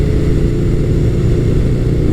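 Honda Hawk GT 650 motorcycle fitted with a CBR954 front end, ridden along a straightaway, its engine giving a steady, low, close drone mixed with wind rush.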